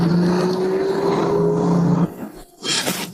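The V8 engine of a tuned heavy truck, weighted down by an extra eight tons, roars with a sustained rising drone that cuts off sharply, then bursts back in with a loud rev.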